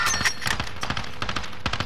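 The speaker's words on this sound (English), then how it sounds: "Oh, he's sniping at me." Rapid gunshots crack in a Call of Duty Warzone match, a quick string of sharp reports in close succession filling the short moment with no voices.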